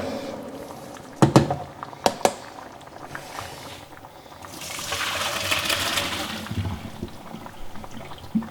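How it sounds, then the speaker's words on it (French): Cooked pasta is tipped into a colander, a few sharp clanks of metal first, then a swelling rush of draining water that trickles away to quiet. "Les pâtes sont cuites, nous allons les mettre dans la passoire afin de retirer l'eau"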